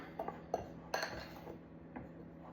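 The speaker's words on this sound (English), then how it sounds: "I switched over from the whisk to a fork, and I'm just gonna get this to all come together into a dough ball." A fork clinks and scrapes against a bowl in a few faint, irregular taps, mixing ice water into Romano cracker dough.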